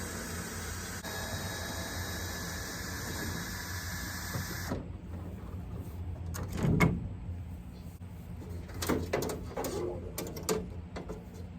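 Rear side door of a Ford E350 van being handled: a steady mechanical whir fills the first few seconds, then scattered metallic clunks, rattles and a louder thud as the door is opened and moved, fairly close.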